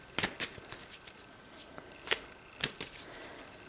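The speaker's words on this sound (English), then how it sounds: "while I shuffle" Tarot cards being shuffled by hand, a series of crisp riffling bursts and soft card slaps at irregular intervals, close and fairly quiet, with no talking.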